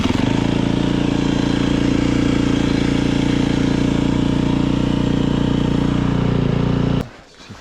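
A motorcycle engine runs loud and close with the choke on, holding a steady, rumbling idle for about seven seconds before cutting off abruptly.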